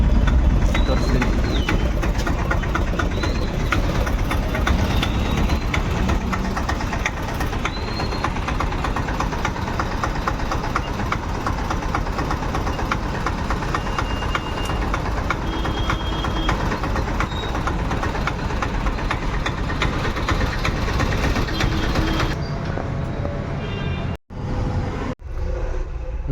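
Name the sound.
goods vehicle engine idling during emission test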